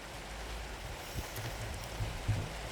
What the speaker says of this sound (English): hear the rain behind me? The sweet sound of rain, guys.